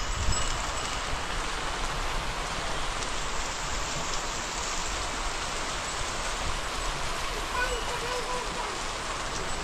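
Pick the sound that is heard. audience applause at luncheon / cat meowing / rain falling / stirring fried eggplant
rain falling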